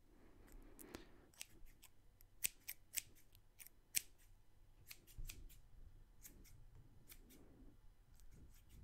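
Heavy-duty scissors snip through a damp wig's hair in a haircut setting, a quiet run of crisp, close blade closes arriving in irregular clusters with short pauses, no talking.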